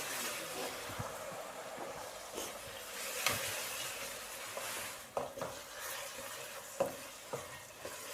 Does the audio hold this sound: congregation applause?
no